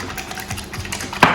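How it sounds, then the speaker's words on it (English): One egg is whisked for an egg wash for lobster mac and cheese, a brief run of quick, rhythmic tapping clatter of the whisk against the bowl, close and fairly loud, ending in a sharper clink. "So just one egg, whisk it."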